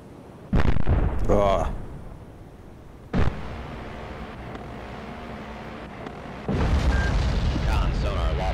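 Submarine combat in the video game Cold Waters: two heavy booming missile launch roars, one early and one near the middle, then a long rumbling rush, with electronic alert tones and a synthetic voice in places.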